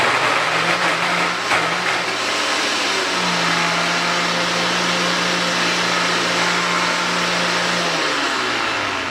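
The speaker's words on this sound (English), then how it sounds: "Now I'll puree them." A kitchen blender purees 2 pounds of boiled baby carrots with butter and brown sugar, a steady loud whirring drone with a constant motor hum that runs throughout and shifts pitch slightly near the end.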